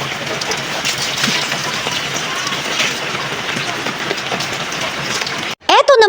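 Steady, dense rain pouring down outdoors while children bathe in it, a constant hiss throughout that cuts off abruptly near the end before a brief voice.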